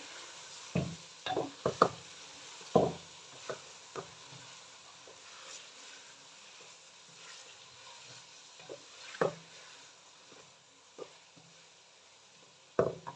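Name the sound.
chicken frying with tomatoes and green chillies in a pan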